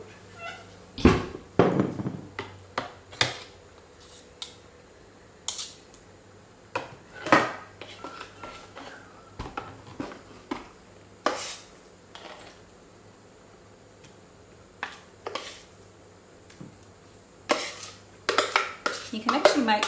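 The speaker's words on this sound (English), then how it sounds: "I'll just put that into another little bowl" A spoon scrapes and taps against bowls as capsicum dip is moved into a small bowl, giving scattered sharp clinks and knocks of varying loudness, close by, with quiet pauses between and no speech.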